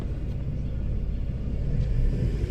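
Car engine held at a steady low rumble as a learner driver presses the accelerator for a hill start, a constant close drone with no distinct rev peaks.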